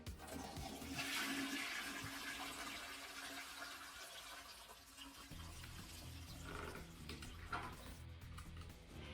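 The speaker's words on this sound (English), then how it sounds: "then you flush him down the bowl" A toilet flushes with a loud, steady rush and swirl of water that runs for several seconds before easing off, heard alone with no talking.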